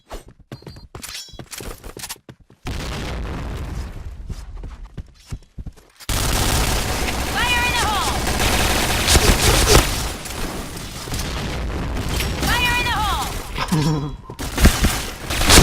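Repeated M-7 rifle shots in a clan match of an online shooter game, loud, sharp cracks in quick succession that continue with scattered bursts and booms, while a voice speaks briefly over the firing.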